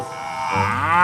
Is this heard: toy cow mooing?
yes